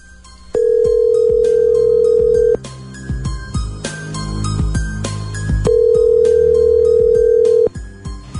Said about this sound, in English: Okay, so let's call Dan when we come back next.